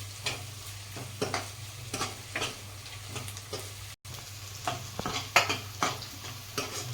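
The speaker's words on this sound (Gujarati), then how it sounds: "હવે આપણે લસણ, લીલા મરચાં 2 લીધા છે અને આદુનો ટુકડો એની પેસ્ટ બનાવી છે એ નાખીશું." Garlic, green chili and ginger paste sautés in a pan, a soft steady sizzle broken by repeated scraping stirs, close and fairly quiet, with no talk.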